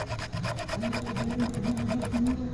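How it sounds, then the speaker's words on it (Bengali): Unpeeled ginger is rubbed against a grater to make juice, giving a close, quiet rasping in quick regular strokes, with no talk. "আদাটা ঘষে রস করে নেবো"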